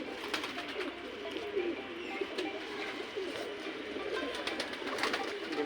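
A prized pigeon of a foreign breed coos softly in a steady, low murmur, joined by faint bird calls over a continuous background hum.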